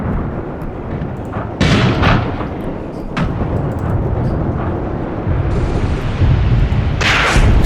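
Heavy artillery barrage in the WWII tank game Tank Warfare Tunisia 1943, loud booming blasts rolling one after another with a few sharper cracks, dense and continuous, no talk over it.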